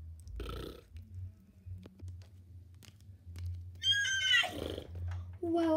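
A horse whinnies near the end, a rising and falling call that stands out loudly over low background rumble after a few scattered knocks and a short earlier burst.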